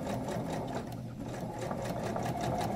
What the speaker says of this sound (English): once you're happy with your needle position and where you have your fold lined up, you can start sewing